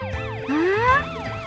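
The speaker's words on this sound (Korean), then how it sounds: "이 소리가 뭐죠? 사이렌이에요." A wailing electronic siren sweeps up and down in quick cycles, loud and close, with a rising whoop in the middle.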